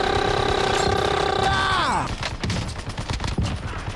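Rapid automatic gunfire from a high fire-rate loadout in the shooter game Warzone, a loud sustained burst with mechanical ringing tones that sweep downward and fade as the shots break up into scattered cracks.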